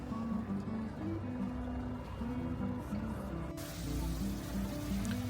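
Steady low engine drone and water rush aboard a small passenger ferry crossing from Macau's Inner Harbour to Wanzai, continuous and fairly loud with no speech.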